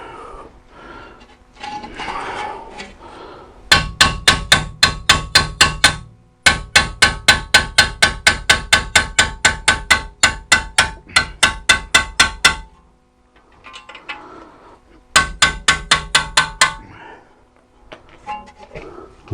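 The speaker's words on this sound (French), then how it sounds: "on va y mettre 2-3 coups de marteau, au moins pour la débloquer" Sharp metallic hammer strikes on the front shock absorber nut of a BMW 1 Series, delivered in long rapid bursts of dozens of evenly spaced loud blows, with brief pauses and muttered talk between the runs.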